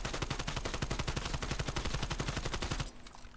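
Rapid automatic fire from an AK-74U in Call of Duty: Black Ops Cold War, fitted with a muzzle attachment; a long, evenly paced burst of sharp loud shots for nearly three seconds, then stopping abruptly into quiet game ambience.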